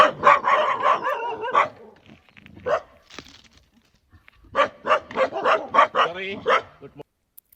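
Dogs barking on a hiking trail in Sri Lanka, sharp repeated barks in two bursts with a quiet gap between, fairly close and loud.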